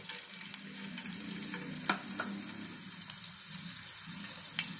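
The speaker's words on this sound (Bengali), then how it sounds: "এটা শ্যালো ফ্রাই হবে।" Prawns shallow frying in a couple of tablespoons of oil: a gentle, steady sizzle punctuated by sharp clinks and scrapes of stirring, close and alone without speech.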